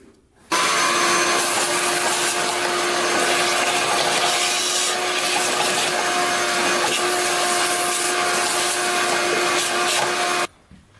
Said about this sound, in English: So we'll blow that out with the air compressor.